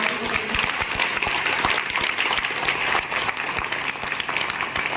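An audience at a Vestige members' gathering claps, a dense, steady burst of applause from many hands that holds at full strength throughout.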